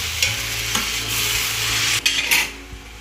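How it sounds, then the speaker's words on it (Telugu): Fenugreek leaves are stirred into a potato curry in a pan, with a loud close sizzle and repeated spatula scrapes, plus a sharp clatter near the end. "మెంతి కూరని బంగాళాదుంపలో కలిపేలాగా మెంతి కూరని మొత్తాన్ని కలుపుకుందాం"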